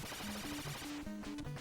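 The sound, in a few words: rapid shots fired in Gauntlet NES video game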